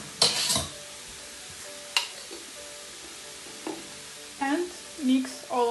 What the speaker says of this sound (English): our mixture frying